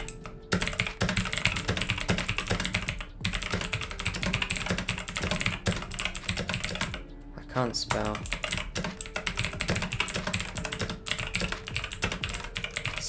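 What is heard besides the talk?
typing on a computer keyboard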